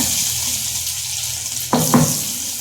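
Garlic fries with urad dal in a pan, giving a steady close sizzle with two brief sharper crackles or stirring clatters near the end.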